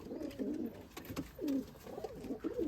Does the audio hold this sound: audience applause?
no